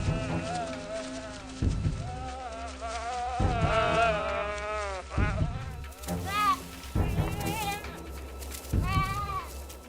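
Sheep bleating during a wolf attack, several loud wavering bleats in quick succession, close and distressed, with a voice talking over them.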